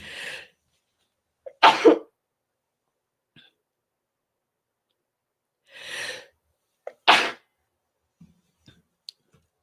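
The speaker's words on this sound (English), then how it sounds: "I'm going to sneeze" Two sharp sneezes, each preceded by a quick inhaling gasp, separated by several seconds of quiet with faint small clicks afterward.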